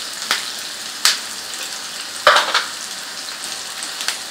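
Ginger, garlic and onion fry in a pan with a constant soft sizzle broken by sharper crackles and stirring scrapes at irregular moments, heard up close with no talking.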